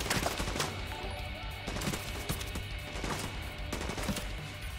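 Automatic gunfire crackles through a German co-op firefight in The Division 2, shooting at red explosive barrels inside a museum, with repeated sharp bursts over a dense, steady background of combat noise.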